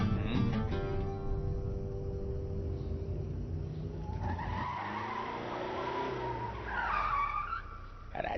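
A car's tires skid and squeal at length, with engine and road noise underneath and a rising squeal toward the end, loud and close.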